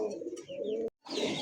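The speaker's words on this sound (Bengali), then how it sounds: "খুব সুন্দর একটা কোকা কবুতর" A Koka pigeon coos in a close, low throaty run, breaks off for a moment, then resumes calling.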